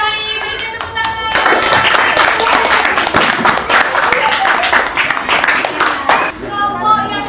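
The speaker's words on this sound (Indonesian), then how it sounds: "berikan tepuk tangan" Classroom applause for a student group presentation, a dense burst of clapping from many hands that swells in after a few isolated claps and holds loud and close before fading, with voices mixed in.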